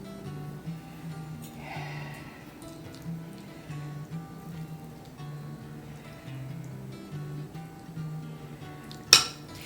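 A spoon scooping filling into baked potato skins, soft scraping with faint clinks of metal on dishes, quiet and close, ending in one sharp clatter.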